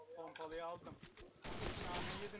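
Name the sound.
gunfire in video game Point Blank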